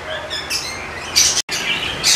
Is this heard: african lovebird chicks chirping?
yes